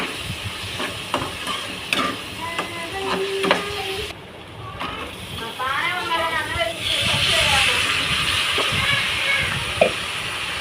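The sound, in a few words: ridge gourd pieces frying and stirred in pan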